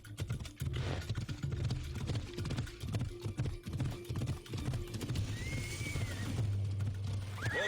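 A horse in the video game Assassin's Creed Odyssey gallops with a steady, rhythmic clip-clop of hooves, up close and fairly loud, with a brief whinny and game background sounds near the end.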